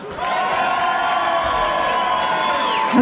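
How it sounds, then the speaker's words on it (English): Crowd at an MMA event in Glasgow cheering for the blue corner fighter, a dense steady roar of voices and whoops lasting throughout, loud and continuous. "And a cheer for the blue corner"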